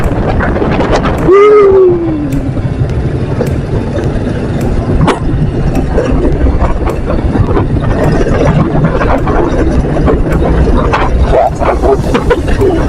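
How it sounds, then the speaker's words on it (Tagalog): Heavy wind roar on a motorcycle ride toward the market, loud and continuous throughout, with a dog barking briefly near the start and other faint sounds under the rush. "Matigas yung hangin."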